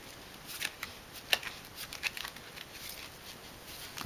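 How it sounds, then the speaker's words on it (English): A deck of playing cards worked through a Hindu shuffle, with a run of light, irregular flicking riffs and small snaps close to the mic, quiet and without talk. "I'm going to teach you the Hindu shuffle, which is a genuine shuffle"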